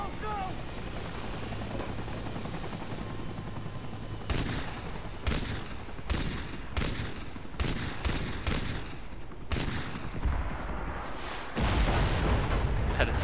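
Pistol shots from the video game Far Cry 3, around eight sharp cracks at irregular intervals over a steady background of helicopter-like engine drone, with a louder rumble near the end.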